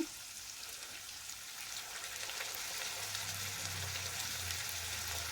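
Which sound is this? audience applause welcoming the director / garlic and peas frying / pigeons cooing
garlic and peas frying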